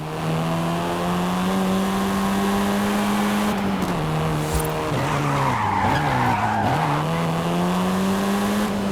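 Volkswagen Golf R skidding in the racing game Forza Horizon 5, a loud sustained engine drone with tire squeal that wavers and dips mid-slide before settling, no talk.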